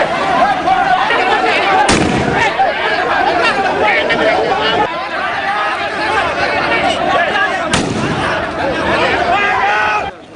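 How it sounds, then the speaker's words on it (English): Police firing tear gas at a crowd of protesting fishermen in Sri Lanka, a few sharp loud bangs standing out over constant crowd chatter and shouting. "Sri Lanka police were forced to fire tear gas to disperse the crowd"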